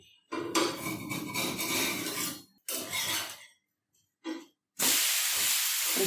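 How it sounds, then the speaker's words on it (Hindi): A multigrain uttapam cooks on a hot pan with a lid: steady loud hissing and sizzling in bursts, separated by silences, then a final strong steam hiss after the lid comes off and the uttapam is flipped. No voices. "2 से 3 मिनट के बाद आप लीड निकालिए और इसे हम फ्लिप करते हैं"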